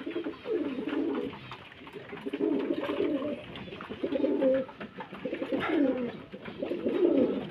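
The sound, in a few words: pigeons cooing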